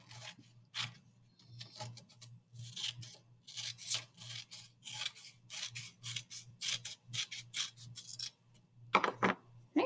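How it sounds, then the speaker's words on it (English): Close, crisp snips and rasping swishes of scissors slicing through paper in a quick irregular series, with no voices. "we're going to use our scissors and we're going to cut along this line right here"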